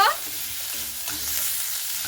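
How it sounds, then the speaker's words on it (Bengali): Chopped onion and spices frying in hot oil in a pan for a papaya dish: a loud, steady, close sizzle that stays even throughout, with no voices. "ওই তেলেই মশলাটাকে একটু লাল লাল করে ভেজে নেব"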